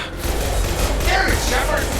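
Gunfire in a Mass Effect video game firefight: dense, continuous rattling shots and mechanical clatter under a steady low rumble, loud and close, with voices mixed in.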